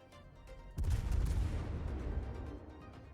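A single heavy naval gun salvo from cruisers in World of Warships, a deep booming blast with a long rumbling decay, loud and close after a quiet lead-in.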